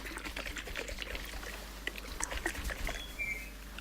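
A bottle of Miracle Growth Water plant fertilizer liquid being shaken, a busy run of sloshing and glugging with small clicks and taps throughout.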